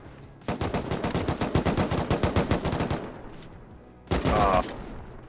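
Rapid automatic gunfire in the survival game Rust, a loud burst of about twenty evenly spaced shots for over two seconds, then a short pause and another brief burst.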